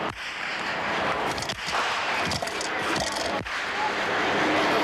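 Repeated gunshots crack out during a long armed standoff with police, with several sharp broadband impacts spread over a loud, dense background of crowd noise and commotion.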